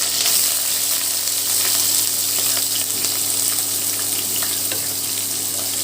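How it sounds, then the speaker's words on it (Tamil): Onions fry for gooseberry rice, giving a loud, dense, continuous sizzle with faint scraping from stirring and a steady low hum underneath, no voices. "வெங்காயம் போட்டு வெங்காயம் நல்லா ஃப்ரை ஆகிற வரைக்கும் நல்லா கிளறி எடுத்துடலாம்"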